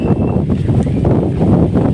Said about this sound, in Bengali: তো সকালবেলা বাতাসটা এত সুন্দর হচ্ছে সে কি বলবো